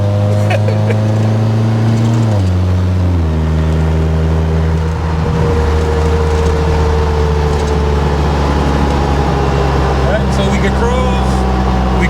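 A 1982 Toyota Corolla engine hums at a steady pitch, with two quick stepped drops in tone as it shifts down before settling into a lower, even drone heard from inside the car.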